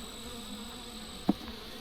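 Honeybees buzz steadily around a growing hive made from a split, a soft continuous hum with one brief louder bee passing close by.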